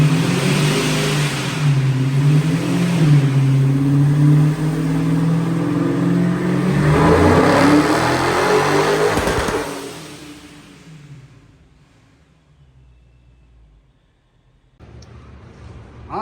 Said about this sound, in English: All right, we got the car on the dyno.